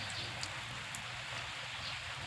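Rain falling outdoors, an even broadband patter of drops on surfaces that stays steady and close for the whole short stretch, with no voices.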